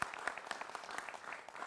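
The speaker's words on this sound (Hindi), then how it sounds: "जोरदार तालियां हमारे मेहमानों के लिए" Audience applause for guests at a televised Hindu religious discussion, brief and fairly faint, with a scatter of sharp individual claps.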